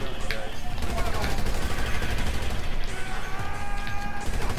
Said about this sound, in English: So when did Freddy Krueger start using guns